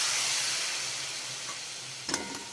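Water splashed into spiced mutton keema frying in a pan sets off a steady broadband sizzle that softly fades, then a brief sharp hiss bursts near the end.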